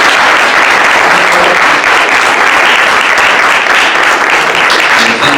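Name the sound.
applause for panel speakers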